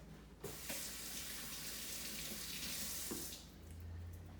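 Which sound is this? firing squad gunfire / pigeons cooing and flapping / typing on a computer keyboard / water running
water running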